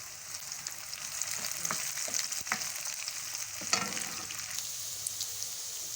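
Cumin seeds and whole dried chillies sizzling in hot oil, a soft steady crackling hiss with a few sharp pops and light stirring scrapes, close and fairly quiet, no voices.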